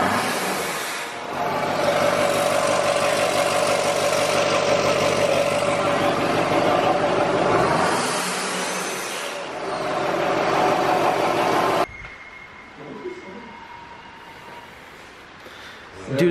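The Duramax diesel engine in a Ripsaw tracked vehicle runs with a loud, steady rumble and a rising roar, cutting off abruptly near the end to a quieter background.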